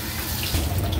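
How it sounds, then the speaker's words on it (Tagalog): Tap water runs steadily into a pot of tomato-braised big fish stew, a continuous close hiss and splash lasting the whole moment. "At lagyan po tayo ng tubig mga idol."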